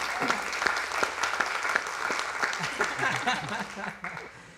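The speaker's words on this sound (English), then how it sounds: "give them a round of applause and thank them for being with us today" A church-style audience applauds guests Aaron and Kayla Plummer, a few seconds of lively clapping with a scattering of laughter and voices that tapers off toward the end.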